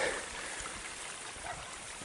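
Water flowing from the Abysses Acequia outflow near Monachil, a steady, soft rushing and trickling stream heard alone at low level throughout.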